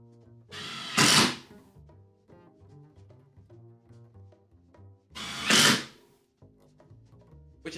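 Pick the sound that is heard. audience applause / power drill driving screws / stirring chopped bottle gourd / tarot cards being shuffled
power drill driving screws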